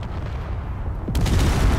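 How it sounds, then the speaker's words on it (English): Rapid gunfire from a missile launcher turret in the Space Engineers game, a dense rumbling burst of shots that swells louder partway through, with low booming underneath. "I'm hearing bullets."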